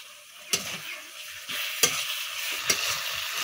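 Garlic paste and ginger paste frying with onions in a pan, a soft steady sizzle broken by three sharp stirring scrapes, close by, with no talking.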